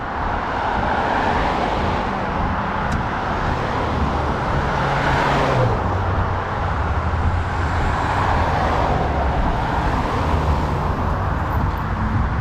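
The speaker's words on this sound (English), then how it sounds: "so we don't get all this traffic noise." Rush-hour road traffic in Lewiston, Maine, heard from a roadside walk: a continuous, loud roar of cars and heavier vehicles rolling past nearby, with swells as individual vehicles pass and no speech.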